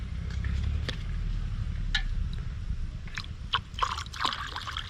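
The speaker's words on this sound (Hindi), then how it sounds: "अभी मम्मी इसमें पानी डाल रही है" Water is poured into an earthen pot, giving a steady low trickle and slosh with a few splashy spikes, fairly close and moderately quiet.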